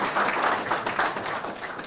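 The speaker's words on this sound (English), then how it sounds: "I think you can applaud. You are allowed to applaud for that." A conference audience applauds in a soft, blurred wash of clapping that holds steady through the moment and eases off slightly at the end, heard from a distance in a large room.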